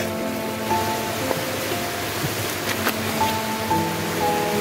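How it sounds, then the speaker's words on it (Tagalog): Heavy, nonstop rain falls as a steady broadband wash that does not let up, with a few faint tonal hums sitting underneath it. "grabe yung ulan. Walang tigil na pag-ulan."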